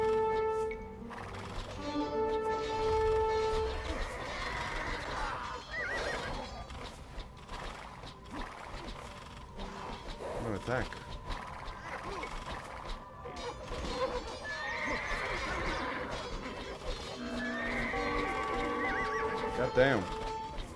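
Horses neigh and whinny repeatedly, with occasional hoof clip-clop, amid Age of Empires II: Definitive Edition battle sounds and game music, at steady moderate loudness; a player talks intermittently over it.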